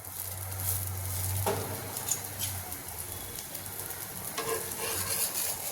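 Dabeli, a spiced bun, toasting in ghee on a pan, giving a steady soft sizzle with occasional light scraping and stirring sounds, close by and with no talk.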